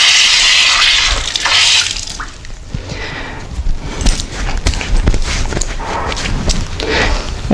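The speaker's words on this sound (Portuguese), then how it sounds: "É importante que a todo momento você lave as mãos." Hands being washed under running kitchen tap water while making homemade requeijão, a steady splashing stream with irregular drips and slaps of wet hands.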